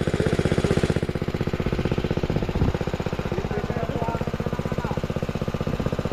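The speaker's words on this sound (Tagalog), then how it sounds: "Malakas ah, malakas yung makina." A powerful engine, apparently running a water pump, drones loudly and steadily with a fast pulsing chug throughout, with the occasional knock over the top.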